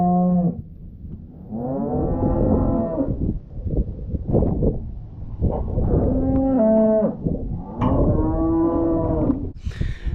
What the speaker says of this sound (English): This is our third and final load of cows